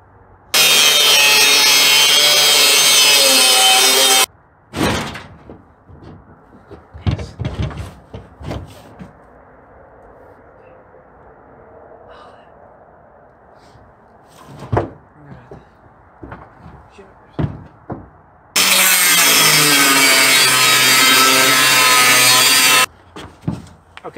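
A piece is cut off so it fits a Husky truck box. Two loud, sustained cutting bursts sound close by, and quieter knocks and handling noises fill the gap between them.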